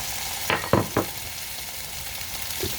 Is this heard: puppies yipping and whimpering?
no